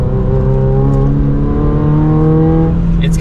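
A manual Toyota GR86 four-cylinder with an aftermarket exhaust revs loudly and close, its engine note climbing steadily in a sustained, buzzing drone.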